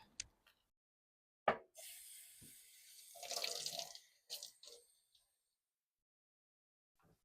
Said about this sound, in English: Let this drain here in the sink.